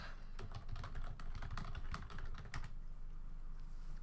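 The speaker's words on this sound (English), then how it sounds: "I have to just type something in the chat" Rapid keystrokes on a computer keyboard while typing into the game chat, a close, uneven run of light clicks over a steady low background hum.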